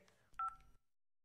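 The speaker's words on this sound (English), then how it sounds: "Now I can give a call to Katya and tell her she left her phone over here" Cartoon telephone dialing: a short run of bright electronic keypad tones, a few quick beeps close up over a faint background, then silence.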